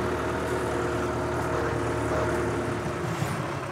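Tractor engine running steadily at a constant rumbling pitch, close and loud with no breaks, heard from inside the cab.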